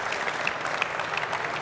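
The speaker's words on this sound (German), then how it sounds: "Applaus für die zwei." An audience claps after speakers at the THERMIK 2020 event, a steady, dense patter of applause filling the whole short stretch at moderate loudness.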